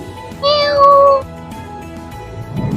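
A cat gives a single drawn-out meow, close and clear, with quiet room noise before and after.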